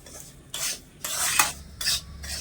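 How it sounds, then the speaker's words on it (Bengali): Semolina with potato and other vegetables fried and stirred in a pan: four or five raspy scraping strokes of a spoon over a faint sizzle, close, with no voices. "আবারও সব কিছু ভালো করে মিশে একটু ভাজা করে নেবো"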